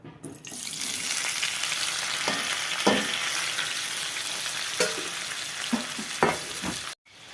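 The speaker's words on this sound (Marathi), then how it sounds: "तेल गरम झालं आहे। आपण याच्यामध्ये कांदे आणि टमाटर टाकून देऊ।" Onions and tomatoes fry in hot oil, a steady loud sizzle with a few sharp clinks and scrapes of stirring throughout before the sound cuts off abruptly.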